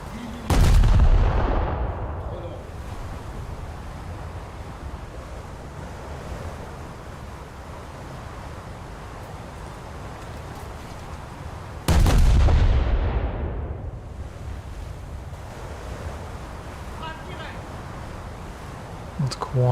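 Two heavy naval gun salvos boom out in a video game battle against German heavy cruisers, each a loud deep blast with a long rumbling decay, about ten seconds apart over steady wind and sea noise.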